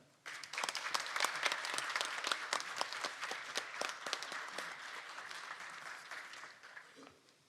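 Sustained audience applause at a Korean digital-policy forum following a presentation, dense, steady clapping from a crowd that swells quickly after a short quiet start and then tapers slightly toward the end.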